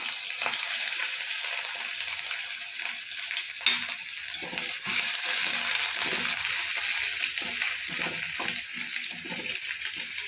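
Chopped ginger frying in hot oil alongside cumin and bay leaf, a continuous close sizzle with occasional scraping from stirring and faint pops.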